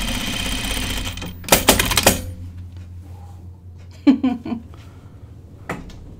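A home sewing machine stitching a jacket runs in a steady whir at first, then stops, followed by a few sharp clatters and clicks.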